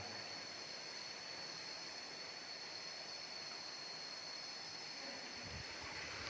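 Water flows steadily from under a pagoda inside a cave, a faint, continuous hiss and rush with no breaks and no voices over it.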